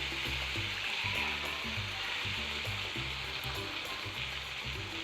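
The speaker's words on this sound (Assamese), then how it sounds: "এইখিনি এতিয়া অলপ টাইম এনেকৈ ভাজি থাকিম" Potatoes frying in a pan for an eel (kuchia fish) curry make a steady, moderate hiss and sizzle. Faint rhythmic low thumps sit underneath throughout.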